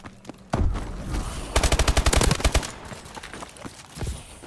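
A loud burst of rapid automatic gunfire in Call of Duty: Advanced Warfare, about a second and a half of closely spaced shots, framed by scattered single impacts and game noise before and after.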